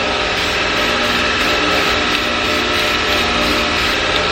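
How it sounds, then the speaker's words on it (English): A loud air compressor runs in a workshop during spray painting, producing a constant, close mechanical drone and hiss with no pauses. "Compressor's super loud, always kicks on at the worst time as well."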